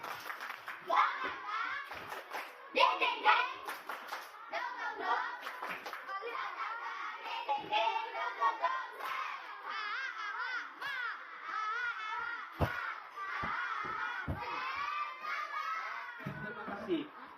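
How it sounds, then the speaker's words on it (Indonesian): Schoolchildren in a classroom perform a rhythmic spirit clap chant, their voices shouting and singing together with bursts of hand claps, lively and continuous, ending in a few sharp claps. "Tepuk semangat."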